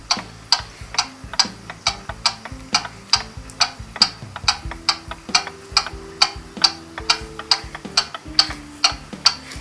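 A Gilbert kitchen clock ticks close and clear in a steady, even rhythm, about two crisp ticks per second, alongside a faint low musical tone, with no speech.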